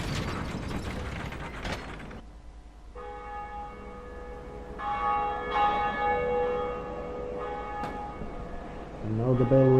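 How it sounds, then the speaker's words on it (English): Bell of Awakening in Dark Souls: a heavy ratcheting lever mechanism clanks first, then a large church-like bell rings out with long, resonant tolls that ring on and overlap. "And now the bell rings."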